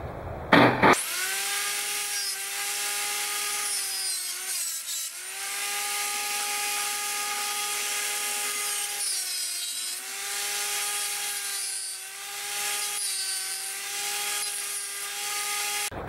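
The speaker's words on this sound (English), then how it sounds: "One thing that PVC does is as you cut it, it tends to want to close back together and pinch." Power saw blade cutting through PVC pipe: a loud, steady high-pitched whine with a gritty rasp runs nearly nonstop after a short startup, dipping briefly in pitch as the blade bites and slows under load, close by with no talking.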